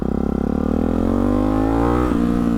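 Motorcycle fitted with a Hyper 698 S1 exhaust revving hard, a loud close engine note climbing steadily in pitch before a sharp shift near the end, alone with no voices.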